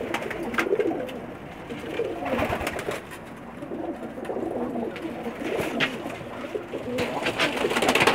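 Pakistani pigeons coo in a loft, soft repeated low cooing calls overlapping one another, with occasional wing flutters and faint background rustle.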